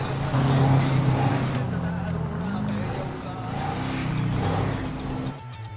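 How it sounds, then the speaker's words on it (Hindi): An Intra truck engine starts and drives in the video game GTA 5, a loud, steady low engine drone with a slight rise and fall, cutting off abruptly at the end. "अब मैं जल्दी से ट्रक के अंदर बैठ जाता हूँ, उसे स्टार्ट करता हूँ और शोरूम से लेकर अपने ट्रक को निकल पड़ता हूँ"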